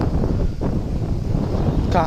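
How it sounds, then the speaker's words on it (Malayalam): Strong wind buffets the microphone near the seashore, a steady low roar filling the whole stretch with faint murmuring voices beneath. "ഇവിടെ ഭയങ്കര കാറ്റ്"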